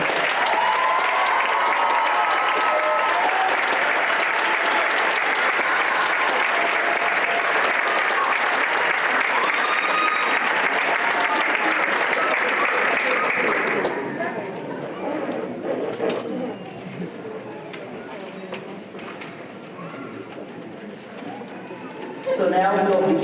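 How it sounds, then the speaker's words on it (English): Audience applause for nursing students at a fall nursing celebration of achievement, a loud, sustained clapping crowd for about fourteen seconds that then stops abruptly, leaving a quieter room with faint murmuring and shuffling. "I'd like to give a big round of applause for their accomplishments"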